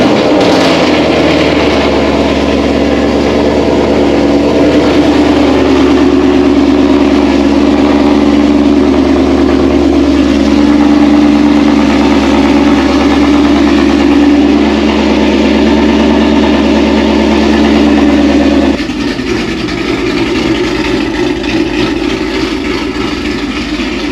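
A catless Ford Mustang Mach 1 with long tube headers idles loud and close, its deep rumbling exhaust holding steady for about twenty seconds before the tone drops slightly near the end, with no voices over it.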